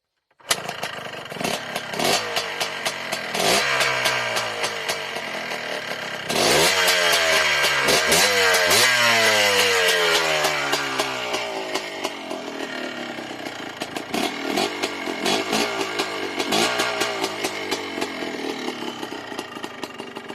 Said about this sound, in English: Now if I shut it off, it fires first kick every time it's warm.